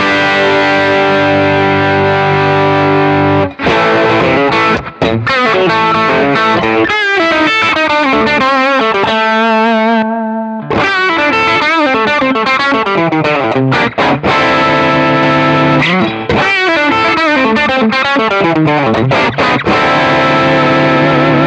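A loud, distorted electric guitar played through a Thorpy FX Fat General parallel compressor pedal into a Deluxe Reverb amp plays chords and riffs continuously, sustained and heavily compressed, with one brief pause midway.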